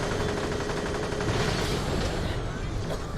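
Gunfire in Borderlands: The Pre-Sequel rattles nonstop and loud, rapid automatic bursts layered over each other with a dense, crackling wash throughout.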